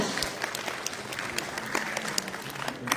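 An audience claps at an evening of the Bharat Rang Mahotsav theatre festival, a steady, dense patter of many hands with scattered sharper claps, moderately loud and continuing throughout.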